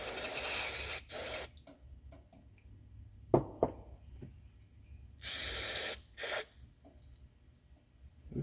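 Cleaner sprays through a John Deere 214 garden tractor's fuel pump in short bursts, brief hissing blasts separated by quiet gaps and small handling clicks, close up with no talking.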